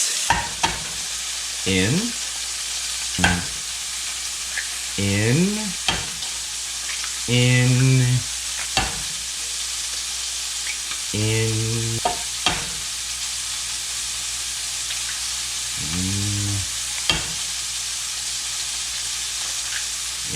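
Eggs cooking in melted butter in a pan at breakfast, crackling steadily while a curved rubber ladle scrapes and stirs them in repeated strokes; a voice speaks briefly.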